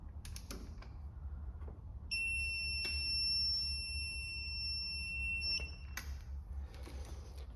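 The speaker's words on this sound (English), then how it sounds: "Don't worry about the beeping" Steady electronic beeping from a torque wrench during a 1.6 TDI timing belt and water pump job, three tones held for about four seconds, with a few workshop clicks and knocks before and after.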